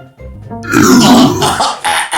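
A loud, close, drawn-out burp follows gulping down cola, a single deep guttural belch that rises and then breaks into a couple of shorter rasping bursts at the end.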